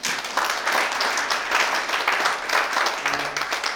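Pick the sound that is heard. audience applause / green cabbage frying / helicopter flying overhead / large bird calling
audience applause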